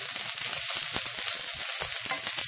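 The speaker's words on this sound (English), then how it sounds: "it is something that is wet, so it splatters in the oil" Onion cut into one-inch pieces hitting hot oil in an Indian recipe, producing a dense crackling sizzle with spitting splatters, close and constant for a couple of seconds.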